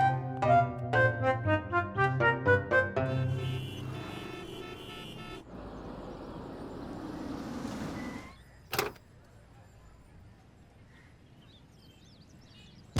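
A police car pulls away, a swelling broadband engine-and-tyre rush that follows a stretch of music, peaks, then drops off, with a sharp thump shortly after.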